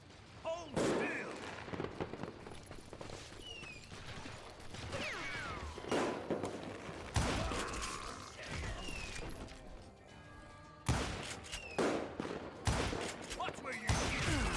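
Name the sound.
gunfire in the Call of Juarez: Gunslinger video game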